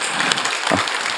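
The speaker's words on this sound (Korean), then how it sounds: "우리 박수 한번 쳐주세요." A church congregation applauds during a Sunday worship service, a steady broadband wash of clapping that holds evenly through the short stretch.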